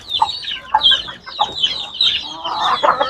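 Chicks, recently vaccinated, peep and cluck close by in quick, bright, irregular bursts, several calls overlapping in a lively chorus with no voices.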